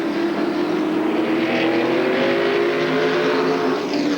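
Stock cars in a 1994 NASCAR Featherlite Southwest Tour race roar steadily as a loud, sustained engine drone with overlapping motors and no pauses.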